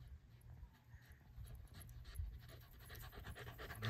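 A Sheltie puppy pants quickly and steadily nearby during a game of ball, a soft, faint rhythmic breathing that continues throughout.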